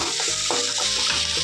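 Onions frying in a pan for chicken biryani, a steady close broadband sizzle with faint scraping stir sounds throughout, no voices.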